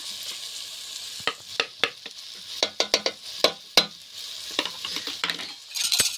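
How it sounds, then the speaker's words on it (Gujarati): Ground green peas going into a hot pan for a green pea dal, followed by stirring: soft sizzling under a series of sharp utensil clinks and scrapes against the pan, fairly close and quiet, with no talking. "તો હવે આપણે વટાણા એડ કરીશું વાટેલા જે મેં સરસ રીતે વાટી લીધા હતા"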